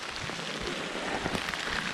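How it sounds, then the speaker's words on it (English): Heavy rain pours steadily on the Mount Langdon trail, a dense, even hiss of drops hitting the ground and foliage close around, with no voices. "it was raining lightly here. Now it's pouring"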